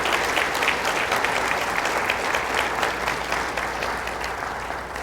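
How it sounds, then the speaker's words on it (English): An audience at a Cleveland welcome reception applauds Dr. Tomislav Mihaljevic with sustained, dense clapping that holds steady throughout and eases off only slightly near the end. "Give him a round of applause."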